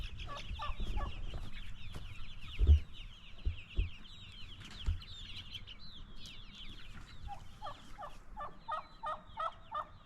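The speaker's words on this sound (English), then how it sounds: "Gobble, gobble, gobble, gobble. Gobble, gobble, gobble." Turkeys gobble and cluck outdoors in fairly faint, repeated calls, with a rapid run of clucks near the end and occasional soft knocks.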